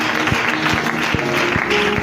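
A church congregation claps during a sermon, a brief burst of rhythmic applause with irregular hand claps over a hum of voices in a reverberant hall.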